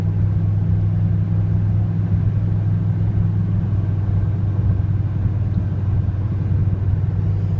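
A vehicle engine pulls uphill in third gear with a loud, steady low rumble that drones continuously from inside the cab and does not change through the whole stretch.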